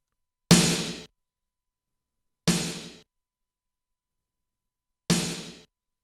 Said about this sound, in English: It's a sample from a Korg drum machine.